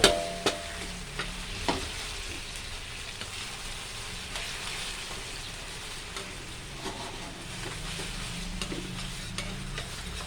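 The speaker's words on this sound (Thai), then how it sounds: "เคี่ยวไปเรื่อย ๆ นะ ทุกคน เคี่ยวจนประมาณนี้นะพอได้กลิ่น กลิ่นน้ำตาลไหม้นิดๆ" Sugar caramelizing for a Thai palo stew simmers in a pot while being stirred, a faint, steady bubbling hiss with soft scraping, no one speaking.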